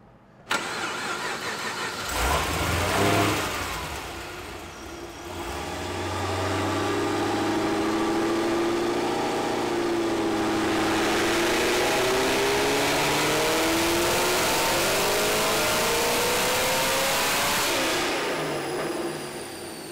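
RPM Stage 5 Camaro fitted with a Whipple supercharger cranks and fires, settles, then revs up in a long sustained climb and holds high before dropping back, loud and close with supercharger whine throughout.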